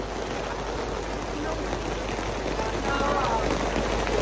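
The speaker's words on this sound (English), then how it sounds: "Pouring rain." Steady rain pours down in a dense, even hiss, close by and continuous throughout.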